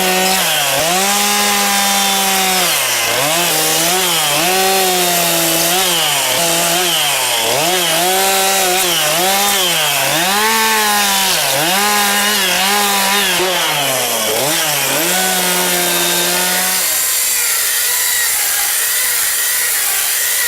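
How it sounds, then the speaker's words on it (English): A chainsaw roughs out a large wood sculpture, its engine loud and close throughout, rising and falling in pitch as it bites into the wood, then settling into a steadier idle near the end. "I'm going to start it with the chainsaw, because we've got a lot of material to work with"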